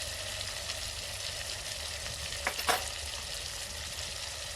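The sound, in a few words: coriander, cumin, salt and red chilli sizzling in tempering oil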